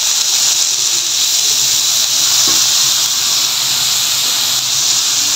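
Dried mola fish frying in hot oil with garlic, a steady loud sizzling hiss that holds without a break from start to finish, with no voices.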